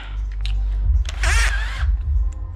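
A power drill whirs briefly for about half a second while pre-drilling a pilot hole for mounting a balcony light switch, its pitch rising and falling, between softer handling noises and a low background hum.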